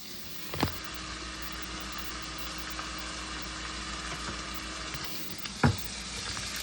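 Olive oil sizzles in a pot with a constant close hiss. Two sharp clanks of cookware break through, one near the start and one near the end.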